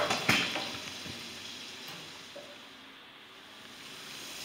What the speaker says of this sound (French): on a du fenouil qui cuit au beurre, au wok, avec une cuisson rapide